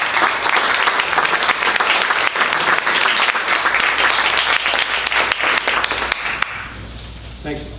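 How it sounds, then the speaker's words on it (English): At a bookstore event for International Translation Day, an audience gives a loud, dense round of applause that continues steadily, then tapers off abruptly near the end as a few scattered claps linger. "please join me in a quick round of applause for Malvern Books"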